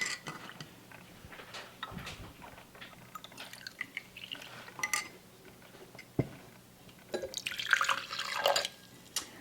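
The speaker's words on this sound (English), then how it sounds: "we're gonna take our cooled chamomile tea, add about 2 ounces into our shaker bottle" Cooled chamomile tea poured into a cocktail shaker bottle, with soft dripping and splashing that gets louder toward the end, plus scattered clinks and handling noises nearby.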